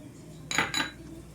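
A spoon scrapes and clinks twice against a metal pan while wheat flour halwa with dry fruits is stirred. The two clinks are quick and close.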